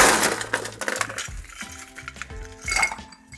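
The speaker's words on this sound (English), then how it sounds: "Right, fresh ice in there." Fresh ice cubes dropped into a glass while mixing a Sex on the Beach cocktail, giving a close series of bright clinks and rattles that come in several quick bursts.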